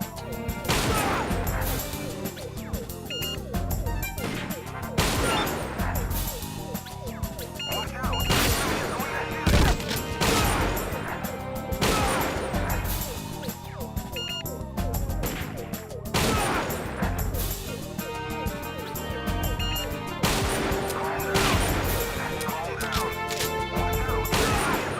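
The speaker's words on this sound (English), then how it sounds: "He's about to shoot at me." Repeated bursts of enemy gunfire in a retro arcade shooter game, loud blasts and crashes recurring every few seconds over game music, with a voice talking at times.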